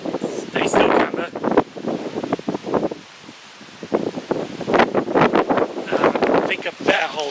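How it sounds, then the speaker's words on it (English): Strong wind gusts buffet a handheld camera microphone on a windy railway platform in Lancashire, roaring in loud uneven bursts with a brief lull midway, mixed with what sounds like a voice. "It's very windy and it's wobbling the camera around a bit."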